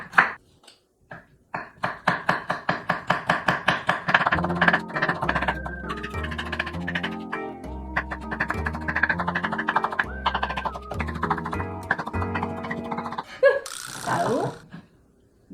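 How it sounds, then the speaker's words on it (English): A knife taps rapidly and rhythmically against a cutting board while thinly slicing radish, a close, crisp run of chops with brief pauses and a few scrapes near the end. "So we need to cut radish first."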